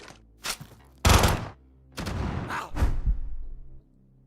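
Gunfire in the video game Quasimorph: several heavy, booming shots in irregular bursts, loud and close, with short gaps between them and no talking.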